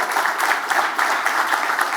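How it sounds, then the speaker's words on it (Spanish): Sustained crowd clapping at a tribute event for Colombian football coach Francisco Maturana, an even, continuous patter of many hands at moderate loudness, with no talk over it. "Aplauso para María Alfonso Escobar"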